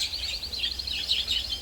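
Birds in a bird reserve in Medina chirp with a faint, rapid string of high tweets over a low background hum, with no speech.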